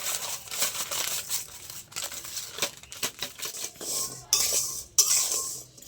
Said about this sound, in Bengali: আমি এখানে পাঁচশো গ্রাম নুন দিয়ে দিচ্ছি